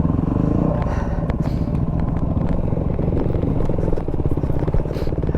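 A Yamaha WR250R motorcycle rides enduro single track with a loud, close, continuous engine drone. Rattling clatter and brief flaps from the bumpy trail run through it, and no one speaks.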